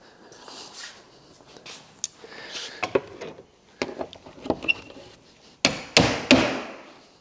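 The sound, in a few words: hammer popping storage container corner pieces into place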